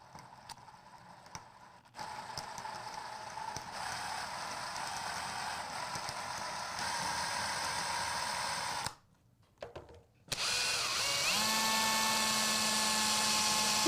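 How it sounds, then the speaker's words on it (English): A drill bit bores through the center of a craft cube in a Dollar Tree DIY project, giving a steady, loud whirring drone that cuts out briefly and then resumes with a higher, sustained whine. "You're going to be drilling through the center."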